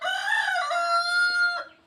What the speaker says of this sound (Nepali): यो कुखुराले डिस्टर्ब गरिगयो भर्खर